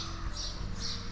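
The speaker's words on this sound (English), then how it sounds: "listen to these birds." Birds call in a back street of Rabat, Malta, with repeated squawking chirps rising over a steady outdoor street ambience.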